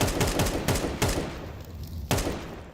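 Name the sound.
gunfire in the video game Counter-Strike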